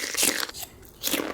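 Two loud, close crunching bites into giant yellow Takis corn chips, each a sharp brittle snap with crackling fragments, separated by a brief quieter pause.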